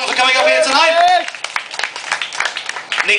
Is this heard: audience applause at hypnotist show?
yes